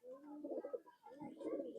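A Chot Madi pigeon from Khulna coos softly in low, rolling phrases, two throaty bursts separated by a brief pause, close by and fairly quiet.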